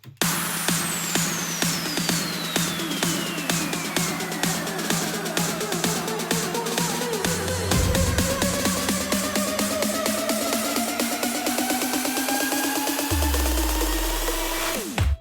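Driving electronic drums build tension with a rapid, accelerating pattern over a long rising sweep and layered risers, loud and dense throughout, with heavy low hits near the end.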